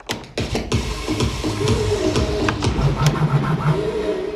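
Rapid percussive DJ scratch bursts from a vinyl record cutting against a steady beat, with a pitched stab sample repeating near the end.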